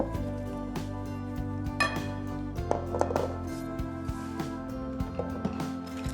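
Flour is folded by hand into a pale, whipped egg batter in a mixing bowl for a strawberry cake sponge, giving soft scraping and occasional light clinks of a utensil against the bowl, steady and close.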